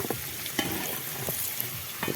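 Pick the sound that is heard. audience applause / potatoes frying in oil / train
potatoes frying in oil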